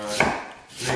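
A sharp knife chops cabbage for sauerkraut on a cutting board, giving two crisp, close crunching cuts about three-quarters of a second apart, with no talking.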